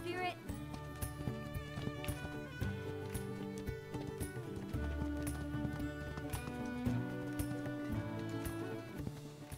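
Horse hooves gallop in the Spirit video game, a quick, steady clip-clop running under prominent orchestral game music.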